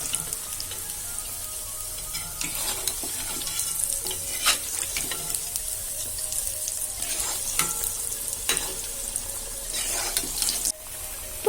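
Vegetable bondas deep frying in hot oil give a steady, close, full-band sizzle with scattered crackles and pops throughout, heard alone without talk.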